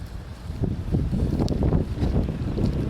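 Steady gusting wind from a sandstorm roars against the microphone, a dense low rumble with no pauses, loud and close.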